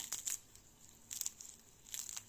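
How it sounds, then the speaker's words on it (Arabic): Crispy semolina sponge bread, a Moroccan fried dough, is torn and pressed close up, giving three quiet clusters of crackly crunching separated by brief pauses. "التقرميشه، عرفتوا شتو واخا برد بقى مقرمش لان السميده ماشي بحال الفرينه"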